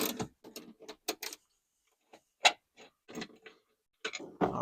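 A socket wrench, size 14, ratchets a seat belt bolt inside a Honda Element: short bursts of close, crisp clicking separated by brief pauses.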